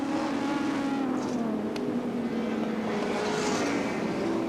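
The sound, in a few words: touring car racing past at Adelaide International Raceway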